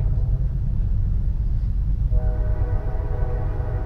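Train rumbling past at close range, with a steady horn blast joining the low roar about halfway through and holding to the end; no voices.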